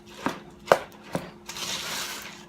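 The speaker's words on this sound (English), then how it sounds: "Just a little at a time, mixing it in." Crunchy rice cereal is mixed into a rice krispy treat mixture, giving three sharp close crunchy hits followed by a longer soft rustling stir.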